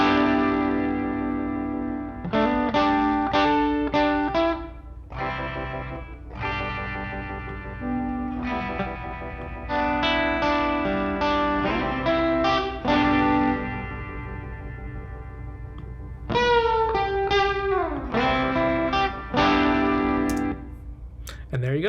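Electric guitar chords and picked notes ring out through the Softube Amp Room amp plugin, washed in reverb and echo, with sustained tails between phrases.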